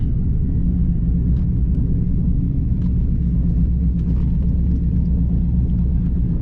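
A cammed Pontiac Trans Am engine idling while parking, a deep, loud, continuous rumble with a lumpy throb that stays steady throughout, close by and with no talking.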